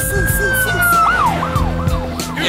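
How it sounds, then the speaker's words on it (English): Police siren whooping in rising and falling sweeps over a low thumping music beat, loud and close, with voices talking underneath. "so whoop when the sirens swoop."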